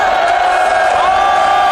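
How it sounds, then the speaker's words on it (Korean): A large outdoor political rally crowd at Gwanghwamun in Seoul cheers and shouts in a steady, loud, sustained roar of many voices, with no pause. "수고하신 우리 영천 스님 그리고 여러 스님께 따가운 함성을 보내주시기 바랍니다"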